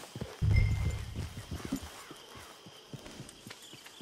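Horse hooves clip-clop in the Red Dead Redemption 2 online game, a loud burst of rapid hoofbeats early on and then quieter, spaced steps over a low ambient background.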